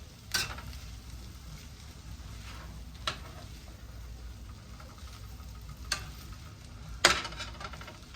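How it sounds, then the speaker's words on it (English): Fried rice stirred and tossed in a sizzling pan, a steady frying hiss under occasional sharp spatula scrapes and clinks against the metal, close and fairly quiet, with no talking. "we're kind of just going to stir this up"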